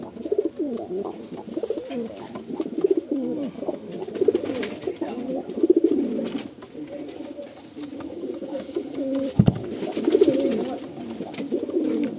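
Madrasi pigeons in a loft coo steadily and overlap one another, a close, continuous murmur of calls with a few louder bursts and no talking.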